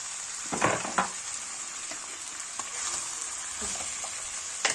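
Washed dried beans tipped into a hot, sizzling pot: a continuous bright hiss, with a couple of sharp clattering bursts near the start that then settle into an even sizzle.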